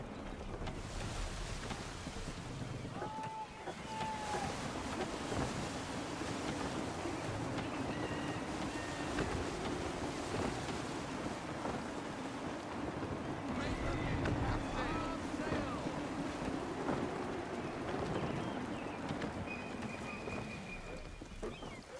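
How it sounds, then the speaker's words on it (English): Gusty wind blows at sea in Assassin's Creed 3 as a sailing ship moves over the water, a steady rushing roar with waves beneath, while voices speak over it. "Wind looks to be shifting. Stay alert, Connor. Gusty winds can be difficult to manage."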